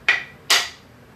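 Two light hammer taps on a hand plane blade in a traditional Chinese wooden plane, sharp close metallic knocks about half a second apart, each ringing briefly before fading.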